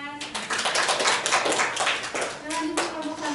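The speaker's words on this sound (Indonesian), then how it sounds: "berikan tepuk tangan." A classroom of students claps for a presenting group during a microteaching session, a lively burst of nearby hand clapping with uneven rhythm, voices of children and a teacher talking over it and tonal speech around the edges.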